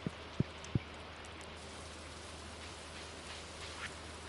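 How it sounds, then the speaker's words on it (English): Steady, even rain falls in the video game Stardew Valley, a soft constant patter throughout, with a few faint clicks near the start. "look at us getting lucky and it being rainy"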